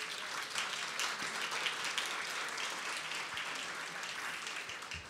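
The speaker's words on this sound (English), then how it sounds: "give yourselves a round of applause" A full-house audience at a college's 80th anniversary gala applauds steadily in a large hall, a dense, even wash of clapping lasting several seconds without speech.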